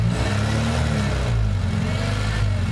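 A Honda car engine idling close by with a steady low rumble that swells slightly in a mild rev and then settles back to idle.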